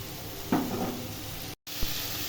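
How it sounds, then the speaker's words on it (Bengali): Spice paste for a hilsa fish curry with aubergine frying in a pan, a steady close sizzle with stirring scrapes, briefly cut out near the end. "লবণ হাফ চা চামচ দিয়ে এবার ভালো করে মশলাটি কষিয়ে নেব।"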